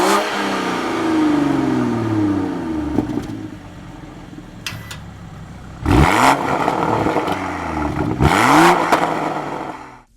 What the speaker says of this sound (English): Just check out this exhaust note here.